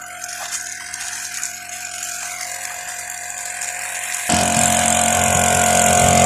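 A small garden-watering mini motor pump runs with a steady mechanical drone and rattle, growing noticeably louder and harsher partway through and continuing close by without talk.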